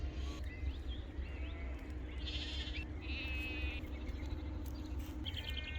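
Sheep bleat in rural Tasman, on New Zealand's South Island, near a pond: a few short, fairly distant calls stand out over a steady outdoor background hum.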